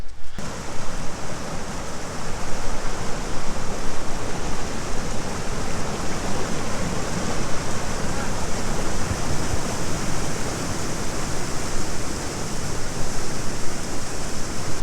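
Kurudere waterfall in Sakarya pours in a steady, loud, broadband roar that holds unchanged throughout, with no voices over it.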